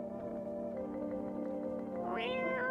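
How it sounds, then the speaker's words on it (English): A cat in the video game No, I'm Not Human meows in a drawn-out, rising call near the end, heard over a steady droning music background with no talk. "that's a cute cat"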